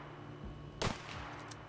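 A single gunshot from a gun in The Outer Worlds game, a sharp crack with a brief tail over quiet background noise.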